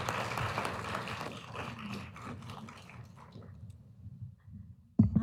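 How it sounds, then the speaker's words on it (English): Audience applause fills a room after a talk at a textiles recycling workshop. The clapping runs steadily and then thins out over about four seconds, and a sudden loud bump cuts in at the very end. "Can we give Joanna a round of applause?"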